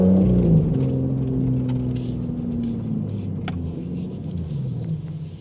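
A 2025 Aston Martin Vanquish cruises around town, its engine a deep, close rumble with a short rise then settling into a steady low drone as the pitch slowly falls, no talking.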